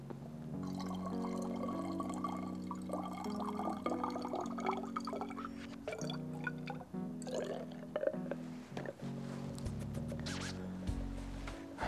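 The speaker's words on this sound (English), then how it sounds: "I'm just adding water to this." Water is added to a lab flask during a chemistry dilution demo, a soft uneven pouring and filling sound with light scraping and glassy knocks, close and fairly quiet, no speech.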